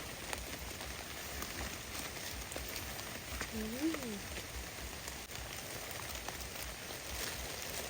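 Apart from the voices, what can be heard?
rain falling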